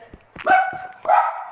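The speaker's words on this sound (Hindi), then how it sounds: "बैकग्राउंड में आई गेस तुम्हें डॉग की भौंकने की आवाज़ आ रही होंगी" A dog barks a few times, short yips followed by drawn-out whining barks, fairly close and fairly loud.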